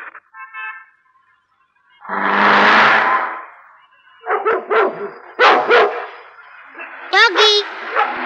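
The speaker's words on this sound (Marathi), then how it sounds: "भुंकू नको माझ्यावर प्लीज खेळ ना" A dog barks in a Marathi comedy film scene, with several sharp, loud barks in quick bursts following a spoken voice, the barking close and clear.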